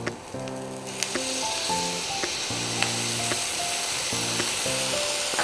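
Ground spice paste of ginger, coriander and chilli powder sizzles loudly in a pan for a vegetarian cauliflower korma, a continuous close hiss with stirring clicks, while a low electronic melody plays underneath.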